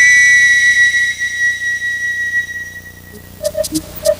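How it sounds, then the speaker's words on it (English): A shrill whistle blows in one long sustained blast that slowly fades, followed by a few faint clicks and short high squeaks. "let me blow my whistle and you just listen"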